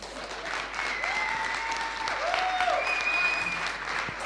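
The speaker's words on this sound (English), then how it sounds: "Round of applause." An audience at a business workshop in Galeshewe claps steadily, a dense, continuous round of applause, with faint whistles rising above it partway through.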